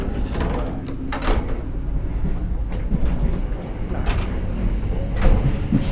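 Inside a moving Indonesian economy-class train, a carriage door slides open over the steady rumble of wheels and rattling, with a few sharp clunks and a faint squeal.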